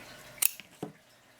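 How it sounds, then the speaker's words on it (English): Scissors snip folded paper for a star garland: two quick, close, crisp cuts with a faint click between them, in a quiet room. "And then we're going to cut 3 cuts, not quite all the way."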